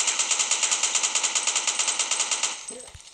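An M4 rifle in a video game fires one long automatic burst of rapid, evenly spaced shots for about two and a half seconds, then stops, leaving faint game sounds.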